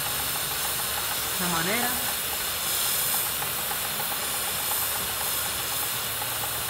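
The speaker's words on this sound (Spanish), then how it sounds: "Vamos a empezar con el desengrasante. Empezamos a desengrasar" Degreaser sprays onto a motorcycle chain as a steady, loud hiss that runs the whole time, with a voice speaking briefly over it.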